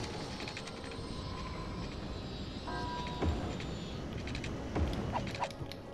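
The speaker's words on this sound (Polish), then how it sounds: "Przyleciał kolejny samolot." A passenger airplane arrives at the airport in the city-building game Cities: Skylines PS4 Snowfall, a steady engine drone under a faint, busy game ambience with a few soft mechanical clicks.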